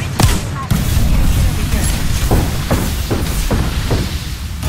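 Enemy gunfire in a shooter video game, a run of sharp repeated shots and booms landing at an uneven rhythm over a dense, loud mix.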